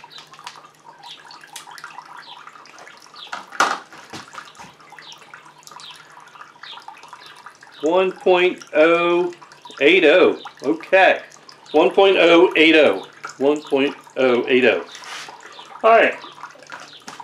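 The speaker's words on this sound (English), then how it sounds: "grains are just about done draining" Liquid from corn mash grains drains into a fermentation bucket with a faint, steady trickle running through the whole stretch, and a voice speaks over it in the second half.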